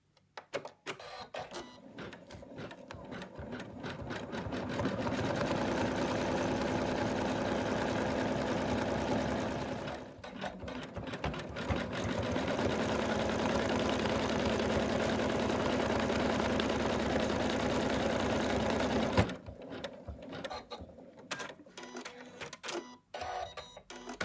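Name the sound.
embroidery machine stitching fabric onto in-the-hoop Santa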